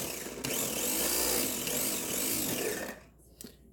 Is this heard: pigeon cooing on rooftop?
no